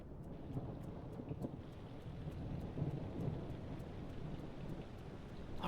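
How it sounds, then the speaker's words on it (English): Rain falls steadily with low rumbling thunder rolling beneath it, a soft, muffled storm ambience that sounds heard from below the surface, continuous and unbroken by talk. "you are still close enough to the surface that you can hear the rain and the thunder"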